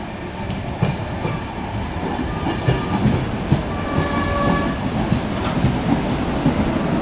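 A train bound for Norwich pulls in with its driver trailer leading, a steady rumbling roll with rhythmic clickety-clack over rail joints, fairly close and continuous throughout, with no talk.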